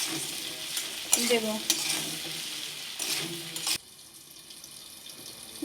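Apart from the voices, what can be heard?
okra frying with salt in a pan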